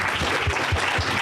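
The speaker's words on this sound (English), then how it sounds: "Can you also join me in a round of applause for these folks?" Audience applause at a roundtable on lead in drinking water, honouring water utility workers; a short, steady burst of clapping at moderate volume with no one speaking over it.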